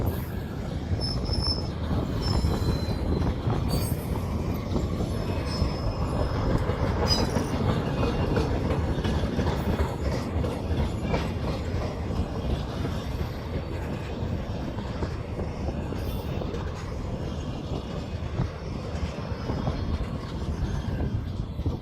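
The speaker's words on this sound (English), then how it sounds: "This was the longest Transdammer train we've ever captured, with 41 cars and all 3 Class 33s pulling." Long freight train of 41 cars hauled by three Class 33 locomotives, rolling past steadily and loudly for the whole stretch with continuous rumble and wheel noise, occasional faint squeals, no voices.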